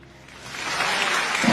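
Audience applause from a live studio crowd during a guessing show, a broad wash of clapping that builds steadily and grows louder toward the end, with no talk over it.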